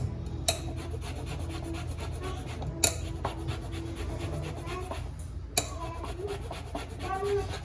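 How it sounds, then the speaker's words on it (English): Lemon zest is grated in repeated soft rasping strokes at close range, broken by a few sharp taps against the grater or bowl. "And then a little lemon zest."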